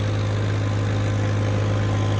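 A steady, low engine drone from a Swaraj 855 tractor pulling two sets of 8x8 disc harrows runs throughout with a constant deep hum and rhythmic chugging, close and continuous with no talking.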